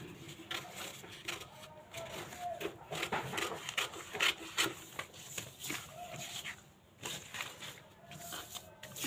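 Scissors shear through fabric as the back neck piece of a garment is cut out in a home sewing lesson, giving a steady close rustling and scraping with small irregular snips.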